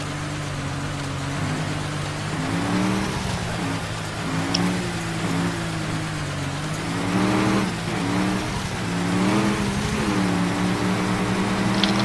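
A truck engine in the military game Project Reality rumbles steadily and loudly throughout, its pitch rising and falling as it revs, with a continuous droning hum.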